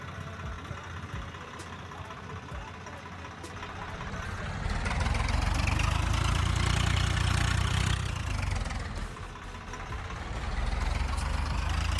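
A tractor engine idles in the Farming Simulator 19 video game, a steady low rumbling drone that swells louder midway, then eases and builds again, with no talk.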